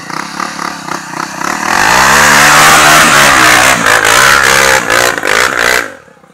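A motorcycle engine idles with a sputtering rhythm, then revs up hard into a loud, sustained roar before cutting off abruptly.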